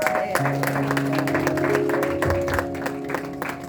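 A church congregation claps steadily in rhythm during a French-language worship service, the applause blending with sustained music throughout.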